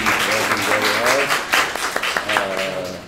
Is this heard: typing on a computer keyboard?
no